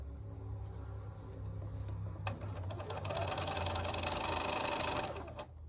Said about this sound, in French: Et après on ira réduire les marges de couture